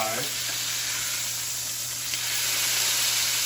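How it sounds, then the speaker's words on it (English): Pork tenderloin sears in a hot pan with a constant, loud, close sizzle and hiss that carries on evenly through the whole stretch. "you wanna sear off all four sides so you have a complete barrier"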